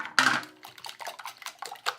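A whisk clinks and scrapes quickly against a bowl while mixing ingredients with maple syrup, one sharp opening clatter followed by a rapid, uneven run of lighter taps.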